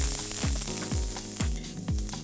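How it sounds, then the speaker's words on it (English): Onions sizzling as they hit a hot pan while cooking lamb, a steady frying hiss broken by four regular stir or scrape sounds roughly half a second apart, close and fairly loud, with no talking. "Then we're gonna drop our onions in there."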